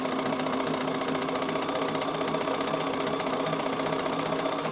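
Sewing machine with a circular embroidery attachment sewing a multi-motion straight stitch, giving a steady, even mechanical whir and rapid needle rattle that holds at a constant level throughout, close and alone with no voices.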